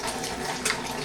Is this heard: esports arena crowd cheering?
no